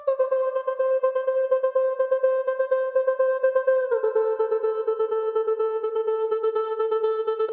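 A vocal sustained tone chopped by the Kilohertz Transgate plugin preset into a fast, steady rhythmic gating pattern, holding one pitch and then dropping slightly lower midway, loud and upfront with no talking.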